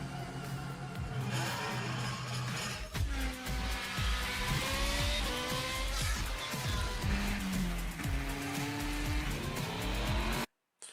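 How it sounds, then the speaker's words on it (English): Engine revving and shifting of a motorcycle ridden in The Crew Motorfest, rising and falling pitch through repeated gear changes, loud and close, ending abruptly. "And here it is, motorcycles."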